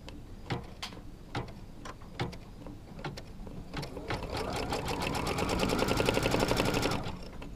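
A sewing machine stitches a strip onto a quilt block, starting with a few separate short bursts, then settling into one long, steady, loud run of rapid stitching before stopping.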